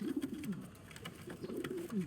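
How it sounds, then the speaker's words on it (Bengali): Soft, low pigeon coos repeat in short rolling phrases, close by and fairly quiet, with a faint hum of outdoor background behind them. "এই যে এখানে কবুতর টবুতর সব জায়গায়"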